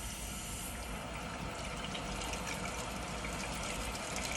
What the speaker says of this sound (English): you'll start off by turning on the water and putting it to a lukewarm temperature.